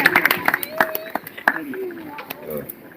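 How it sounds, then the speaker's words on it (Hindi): A church congregation claps to welcome the preacher, scattered sharp handclaps at close range mixed with voices talking over them. "जोर से ताली बजा के परमेश्वर के दास का स्वागत करेंगे।"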